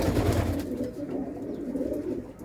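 Black-eyed Mirab flying pigeons give low, continuous murmuring coos, close by and without voices.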